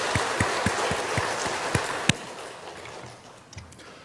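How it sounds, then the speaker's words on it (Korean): A church congregation claps in a steady, moderately close rhythm during a Sunday service. The clapping fades out after a couple of seconds, leaving room noise. "우리 박수로 격려하고 감사로 축복하시겠습니다"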